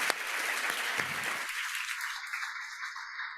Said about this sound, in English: Let's have a round of applause to our speakers.